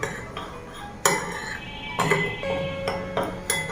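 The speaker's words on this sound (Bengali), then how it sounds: "এবার সব শুকনো উপকরণগুলো একটু মিশিয়ে নিচ্ছি।" Dry ingredients of flour, sugar and salt are mixed in a bowl for a quick flatbread batter, with a few sharp clinks of a utensil against the dish and soft scraping between them.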